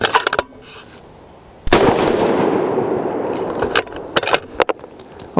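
A single loud, sharp shot from a custom lightweight Terminus Kratos 7 PRC rifle firing a 195g Berger bullet at a range, with a long rolling echo decaying after it and some handling clatter before and after.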